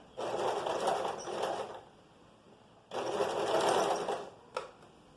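A sewing machine stitches a vest seam in two sustained runs of fast, steady needle chatter, with a pause between and a short click near the end, no voices.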